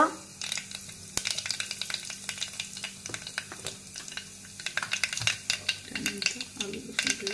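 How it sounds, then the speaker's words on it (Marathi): Mustard seeds, cumin and asafoetida crackle and sizzle in hot oil for masala rice, with steady frying hiss, scattered sharp pops and occasional stirring clinks, close by. "तेल गरम झाल्यानंतर त्याच्यात आपल्याला काय मसाले टाकायचे, जसं की मोहरी, त्यानंतर त्याच्यात जिरे टाकायचं आहे।"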